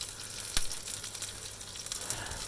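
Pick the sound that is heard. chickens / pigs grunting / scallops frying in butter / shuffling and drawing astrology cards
scallops frying in butter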